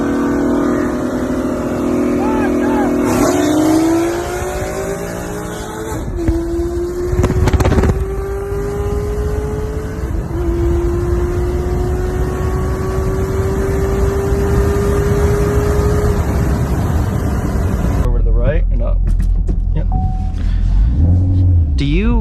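Full bolt-on E85 automatic 5.0 car engine, a loud close rumbling drone that rises in pitch through the gears with clear shift points, then drops away near the end. Voices talk over it.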